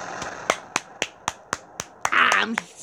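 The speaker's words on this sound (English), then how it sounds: "I'm sounding the clap of my hands." Sharp, evenly spaced hand claps, about nine in a row, close and loud, with a short burst of voice breaking in near the end.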